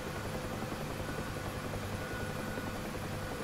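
Simulated helicopter in DCS World as the throttle and collective come up toward a hover, a steady rotor and engine drone with constant whirring and no pauses.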